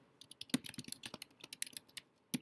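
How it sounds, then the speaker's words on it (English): Typing on a computer keyboard, with a quick, irregular run of light key clicks and a few louder taps, close and fairly quiet, with no talking. "when you start typing something in"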